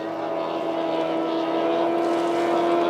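Outboard racing boat engines of the 2700 class at a Paynesville race, a loud sustained drone with steady high-pitched whine and harmonic tones, holding constant without break.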